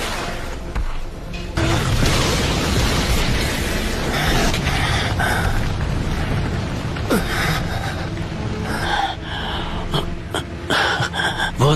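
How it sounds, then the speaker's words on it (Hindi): Anime dragon flame jutsu fire blast, a loud, sustained roaring whoosh of flame with booming bursts and crackle running about ten seconds, swelling and pulsing with sharp accents near the end; no speech over it. "Fire style dragon flame jutsu."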